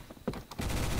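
A DMR rifle fires in the first-person shooter game Phantom Forces, with a few sharp separate shots giving way to a loud, dense stretch of rapid gunfire with no talking.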